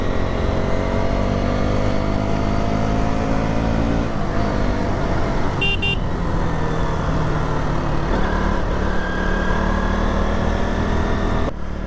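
Motorcycle on a solo morning ride toward Devarayanadurga hills, with a loud, steady engine drone and a continuous rush of wind, the pitch shifting slightly as the rider changes speed.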